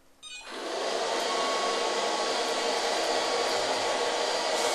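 A robot vacuum cleaner switches on and settles into a loud, steady whooshing whine that holds constant without pause.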